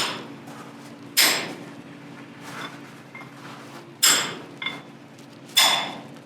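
Sharp metallic strikes of a sledgehammer on a chisel against rock ring out in an amethyst mine, three hard hits spaced a few seconds apart, each with a short ringing decay and a faint tap between.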